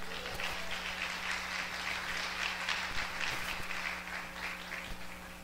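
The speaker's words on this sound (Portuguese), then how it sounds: "Quem pode glorificar o Senhor com a salva de palmas?" Church congregation applauding at a Brazilian evangelical service, a steady dense wash of clapping hands that holds evenly throughout at moderate level, with a low hum in the background.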